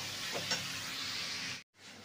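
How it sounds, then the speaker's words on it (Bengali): Spice paste with chopped tomato fries in a pan, giving a steady close sizzle with light stirring scrapes, then a brief silent gap before the frying resumes. "মশলাটাকে এবার ভালো করে কষিয়ে নেব"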